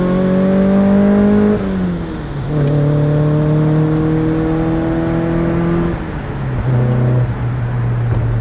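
A British Racing Green 1996 Mazda MX5 engine revs loudly from inside the car while driving. The pitch climbs steadily through the gears, drops at each shift, and then rises again, with no talking.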